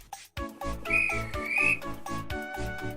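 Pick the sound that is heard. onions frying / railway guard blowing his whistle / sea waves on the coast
railway guard blowing his whistle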